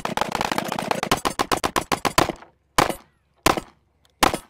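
Rapid 9mm gunfire into Caliber body armor: a fast string of sharp, loud shots for about two seconds, then three separate single shots spaced apart with silence between, no talking.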